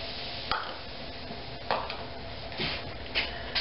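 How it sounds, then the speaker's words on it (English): A spoon works ginger ale into gluten-free pie crust dough in a bowl, giving a muffled continuous scraping and stirring with a few sharper clicks against the bowl. "And we're going to mix that up."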